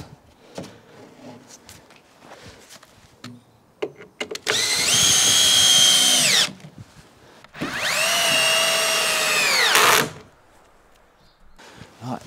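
A power drill drives screws into timber wall frames in two sustained, high-pitched whining runs of about two seconds each, loud and near, with quieter knocks and handling sounds before, between and after.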